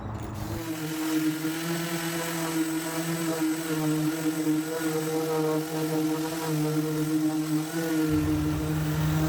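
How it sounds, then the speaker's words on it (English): A motorized sander runs 240 grit sandpaper over wood to strip wax, producing a steady droning whir that holds an even pitch for nine seconds with slight shifts in load. "I believe I'm using 240 grit sandpaper here"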